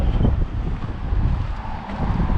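Strong wind buffets the microphone with a steady low roar and gusty rumble throughout.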